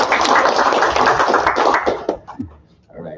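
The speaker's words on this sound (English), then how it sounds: "Now you can clap." An audience at a legislative delegation special session claps in a dense, close burst that cuts off after about two seconds, followed by a few scattered sounds and a brief voice.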